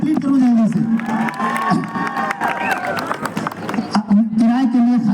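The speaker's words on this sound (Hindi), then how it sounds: "अब ताली बजाओ" A university audience at a poetry recital claps and cheers loudly for several seconds, dense applause with shouts, while a voice talks over the start and end.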